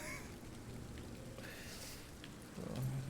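Soft, steady rainfall pattering in a video game set in London, a faint continuous hiss with a brief low rumble near the end.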